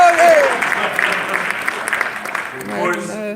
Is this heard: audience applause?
yes